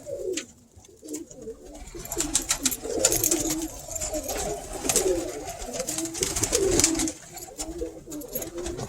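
Pigeons coo in a loft housing cocks and young hens, with several overlapping soft calls and wing shuffles repeating close by, no speech.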